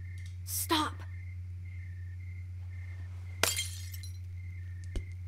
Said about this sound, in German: hör doch mal auf, diese Gläser zu zerdeppern